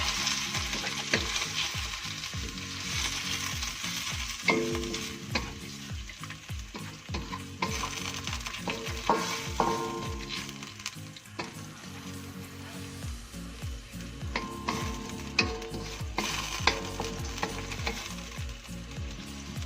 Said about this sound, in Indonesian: Kemudian kita aduk kembali.